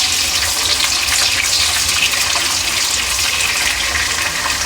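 Onions fry in a pan for a spicy goat head curry, giving a steady, dense hiss that fills the whole stretch without pause or talk.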